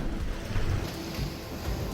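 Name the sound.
ocean swell hitting the side of a sailing boat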